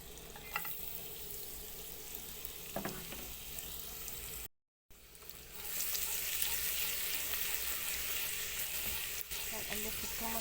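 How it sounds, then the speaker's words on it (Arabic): Minced garlic frying in hot oil in a pan, a continuous close sizzle that briefly cuts out and then returns louder and brighter, with no voices. "هننزل كده بمكعبات الزيت، وهننزل كده بقى بالثوم المفروم."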